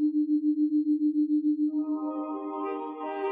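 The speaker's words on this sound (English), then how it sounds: "Her only external stimulus comes from tones in her headphones." Steady electronic binaural beat tones played through headphones: a single pure hum pulsing in even beats, joined after a moment by a stack of higher sustained tones, smooth and continuous with no voices.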